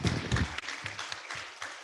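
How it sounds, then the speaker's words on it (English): Audience applause for a minister at a university event, short and fairly soft, a dense patter of clapping that thins out after the first half second. "It's our turn now to clap for the Honorable Minister once again."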